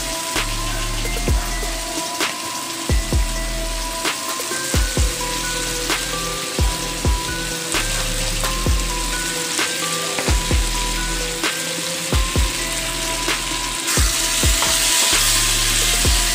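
Prawns soaked in masala hiss and sizzle in a kadai with onion and tomato, a close, steady fry like rain, broken by repeated scraping and clanking strokes of a spoon stirring throughout.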